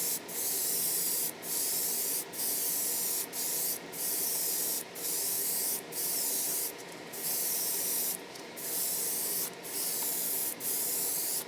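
An airbrush sprays a coat of pearl white paint onto a fishing bait in about a dozen short, regular hissing bursts separated by brief gaps. The spraying is close and even, with no talking.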